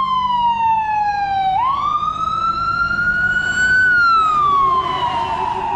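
A loud wailing emergency vehicle siren rises and falls in a long sweeping tone, close by and continuous over traffic noise.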